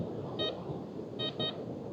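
Metal detector sweeping a sand beach at Blackpool gives three short electronic beeps, two close together near the end, over a steady background hiss of wind and surf.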